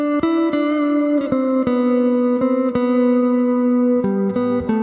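Electric guitar plays a song's riff alone, a steady sequence of picked notes with clear attacks roughly every half second, bright and close, with no talking.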